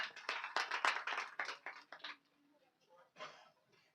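Listeners at a kirtan clap hands in a quick rhythm, loud and close for about two seconds before thinning out, while a voice carries on underneath.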